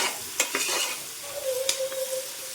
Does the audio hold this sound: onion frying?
yes